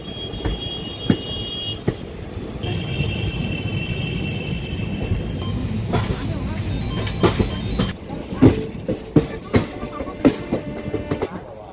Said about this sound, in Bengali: ধীরে ধীরে গাড়িটা বারাণসী জাংশনে ঢুকছে